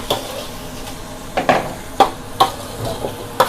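Shrimp stir-fried in Thai curry paste in a home kitchen in Sweden: a spatula scrapes the pan in irregular strokes over a steady low sizzle, close and moderately loud, with no talking.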